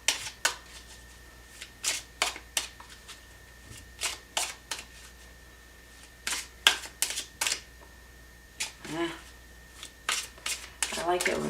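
Tarot cards are shuffled to draw a single card, making crisp bursts of riffling and snapping at irregular intervals, close and clear, with a voice speaking between them.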